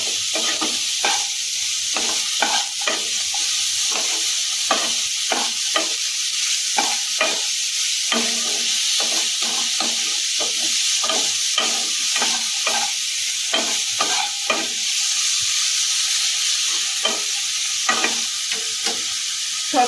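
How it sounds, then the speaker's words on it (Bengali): Vegetable soup being stirred in a pan after salt is added, a steady soft sizzle under repeated scraping strokes of a spoon, close and continuous with no talking. "এখন আমি লবণটা দেবো পুরো স্যুপের মতনই লবণটা দেবো আবারও ভালো করে মিনিটখানে নেড়ে ফেলে নেবো"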